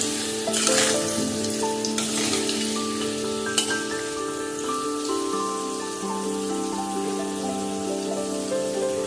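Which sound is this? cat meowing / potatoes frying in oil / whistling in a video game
potatoes frying in oil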